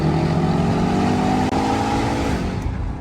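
Dodge Durango Hellcat engine roaring loudly and steadily, a close, sustained rumble that holds for a few seconds with no talk.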